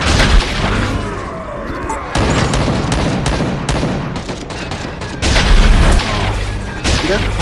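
Autocannon fire in the Warhammer 40k Freeblade video game, dense bursts of loud booming shots in rapid volleys with brief lulls between, filling the whole stretch.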